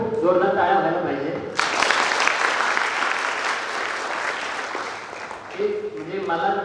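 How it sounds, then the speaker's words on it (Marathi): An audience at a career guidance youth event in Yavatmal breaks into loud, sustained applause that starts abruptly, fills several seconds and fades, with a speaker's voice just before and after it. "खरंच खूप जोरदार टाळ्या व्हायला पाहिजे"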